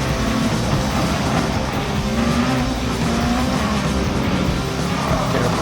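A race car's engine drones steadily in Gran Turismo during a practice lap on the big Nürburgring, a continuous loud roar with a slowly rising pitch and no pauses or talk.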